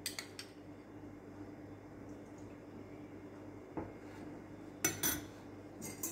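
A utensil clinks and scrapes against a bowl as butter and batter ingredients for puto are mixed, quiet soft stirring broken by a few sharper metallic taps near the end.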